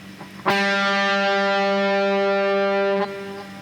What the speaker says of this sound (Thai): สาย3เสียง G ครับ